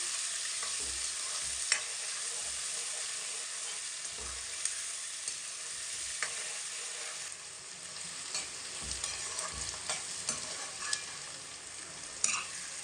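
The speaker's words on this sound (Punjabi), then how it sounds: "ਪਿਆਜ਼ਾਂ ਨੂੰ ਆਪਾਂ ਬਰਾਊਨ ਹੁੰਦੇ ਤੱਕ ਭੁੰਨ ਲੈਣੇ ਆ ਚੰਗੀ ਤਰ੍ਹਾਂ" Onions fry in a pan until brown for baingan bharta, a steady loud sizzle running throughout with occasional scrapes and clinks of a stirring spoon.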